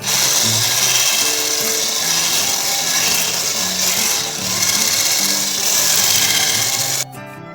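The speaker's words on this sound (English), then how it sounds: "Let's beat the egg along with the butter and sugar." Egg being beaten together with butter and sugar for a chocolate cake batter: a loud, steady whirring rasp runs without pause, cutting off abruptly just before the end.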